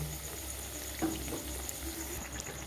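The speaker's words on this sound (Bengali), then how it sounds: "এবারে আমি আস্তে আস্তে ধৈর্য ধরে ভেজে নেব" Moong dal kachori frying slowly in oil, giving a steady low bubbling sizzle with a soft knock partway through, close and moderate in level, without any talk.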